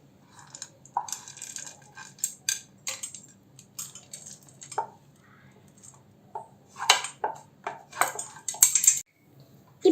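Sautéed mixture being stirred into batter in a kadai for kuzhi paniyaram, with bursts of close metal clinks and wet scraping separated by short pauses, no talking.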